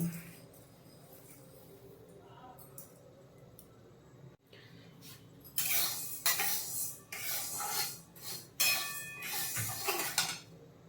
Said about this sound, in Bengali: মুগ ডালটা একটু হালকা করে ভেজে নেবো